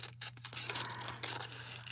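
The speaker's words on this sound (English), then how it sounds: "lots of people ask about these scissors when I use them" Fiskars scissors snipping through paper or card at a craft table, a few close, quick crisp cuts followed by soft scraping, heard alone at low volume.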